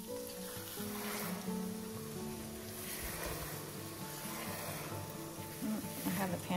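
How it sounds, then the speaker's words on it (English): Eggs fry in a very hot pan just after sausage has cooked, giving a continuous, close hissing sizzle with a faint steady tonal hum underneath. "so we can just cook our eggs now"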